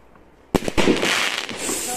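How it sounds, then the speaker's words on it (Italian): Night Queen Classic fireworks, a 300-gram, 16-shot cake, exploding: a sudden loud launch thump followed by crackling bursts and a sustained hissing roar. "Night Queen Classic Fireworks, 300 grammi, 16 colpi"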